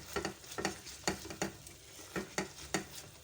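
A spoon mixes chili flakes, basil, oregano and salt into homemade pizza sauce in a pan, making about eight close scraping strokes in a steady, uneven rhythm over a soft background.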